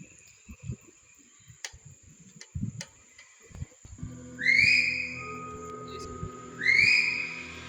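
A whistle sounds twice in the dark during an outdoor night-time ghost hunt on a field embankment. Each whistle is a clear, rising-then-falling note, a couple of seconds apart, following scattered soft knocks and rustles.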